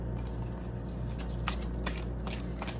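Tarot cards are shuffled by hand close to the mic, giving repeated crisp riffling bursts over a steady low hum, with no talking.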